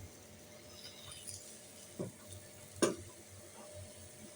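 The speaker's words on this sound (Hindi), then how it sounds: "अपने आप ही आपने चम्मच इस तरह से चलानी है ना, पूरा हलवा मिक्स होगा" A spoon stirs semolina halwa in a pan, giving a few faint scraping clinks, with a sharper knock near the middle and a soft sizzle underneath.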